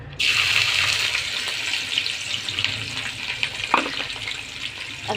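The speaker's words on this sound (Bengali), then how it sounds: "আমি এখন পেঁয়াজ কুচি দিয়ে দিলাম দেখুন এখন" Chopped onions frying in a pan with a loud, continuous sizzle that starts abruptly and holds steady, broken by an occasional scrape or clink of a utensil, with no talking.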